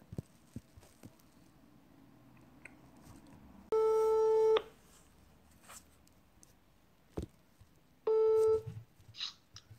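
Two bursts of a steady telephone ringback tone, each a bit under a second long and a few seconds apart, heard on a call being placed back to a supplier in a prank phone call, with faint background noise in between.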